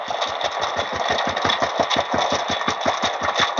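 A DF64P coffee grinder runs close and loud, its motor whir chopped into a fast, even pulsing rattle that continues steadily throughout.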